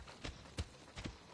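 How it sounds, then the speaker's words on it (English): Horse hooves clip-clop at a riding pace in the Assassin's Creed Odyssey video game, giving a few soft, spaced thuds at low volume. "Shouldn't really ride my horse through here, I'm pretty sure."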